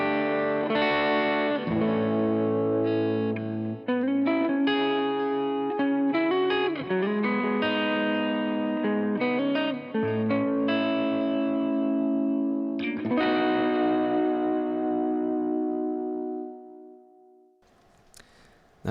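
A clean electric guitar on the neck pickup, run through a worship-style pedalboard, sounds out sustained chords and melodic lines with chorus, echo and reverb trails, fading into a soft ambient tail near the end.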